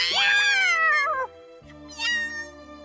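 A cartoon cat meows in a long, drawn-out whine that falls in pitch, then gives a shorter second meow over a steady background music drone.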